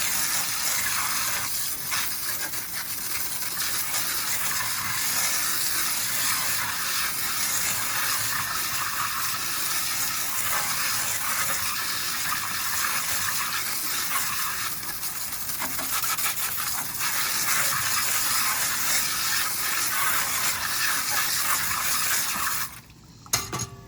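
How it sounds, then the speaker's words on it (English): Water from a hose sprays steadily over a pool filter cartridge, a continuous close hiss that runs nearly unbroken before cutting off at the end, with no voices. "I just rinse it while it's on here so that I know it's going the same way"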